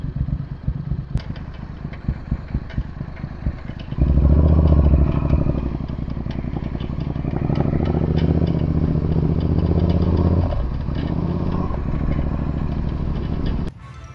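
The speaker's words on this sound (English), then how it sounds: "There is something rattling on it when I'm moving, so I'm going to go back and check it out." Triumph Bobber motorcycle with a broken-off indicator weld, riding with a steady engine drone and a light metallic clatter over it, the engine note rising after a few seconds and then settling.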